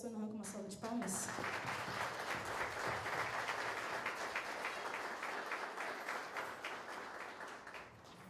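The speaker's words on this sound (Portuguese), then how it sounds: "Vamos receber o pastor Nohan com uma salva de palmas." A church congregation applauds at a morning sermon to welcome the pastor, a dense sustained clapping that swells after a brief spoken introduction and fades slightly toward the end.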